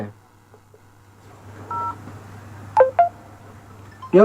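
Telephone keypad tones sound during a Thai radio call-in program: a few short, separate beeps over a low hum, followed by a quick burst of dialing tones. A faint voice can be heard in the background.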